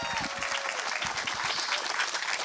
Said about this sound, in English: can we give Dan Brown another round of applause?